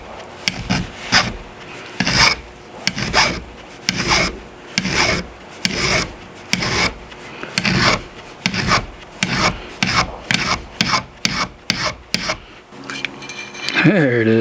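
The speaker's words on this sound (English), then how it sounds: "I'm gonna go grab a file so I can clean this edge up." A hand file rasps back and forth along a metal edge on a Louisiana Grill in a steady run of close, loud strokes, each one a gritty scrape followed by a short pause.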